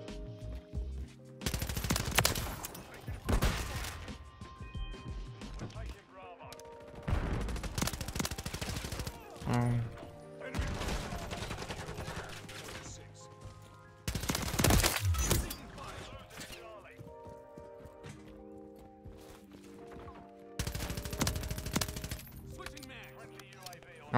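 Gunfire in Modern Warfare 3 comes in several loud separated bursts of rapid shots with quieter gaps between them, sharp cracks rising over background game noise and some talk.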